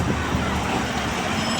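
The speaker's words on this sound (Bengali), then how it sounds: "বাবা কি গাড়ির আওয়াজ!" Road traffic rushes past in a constant, dense roar of engines and tyres, close and loud, with wind mixed in on a foggy roadside.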